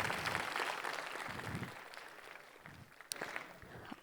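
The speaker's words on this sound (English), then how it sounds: "Can I have a huge round of applause for yourself" Applause from the audience at a JavaScript conference talk, a moderately faint, diffuse patter of clapping across a hall that thins out gradually, with a sharp click near the end.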